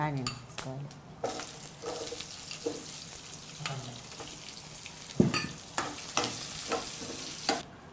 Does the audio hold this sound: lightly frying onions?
yes